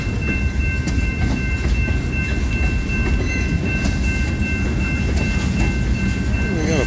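A northbound CSX local freight train rolls past in Plymouth, Michigan, loud and close, with a continuous rumble, wheel clatter and squeal holding steady throughout and no voices.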